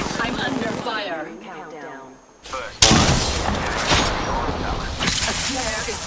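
Video game gunfire and explosive blasts under a player's excited talking, with a loud booming hit midway followed by continuous rattling shots and combat noise.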